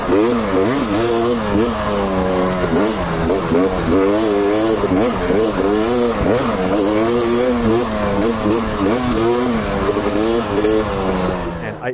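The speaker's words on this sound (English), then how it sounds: "This bike is electric smooth and light and nimble and jumping." A 2003 Honda CR250R two-stroke motocross bike is ridden hard, its engine revving up and down in quick, rising and falling bursts that stay loud and close throughout.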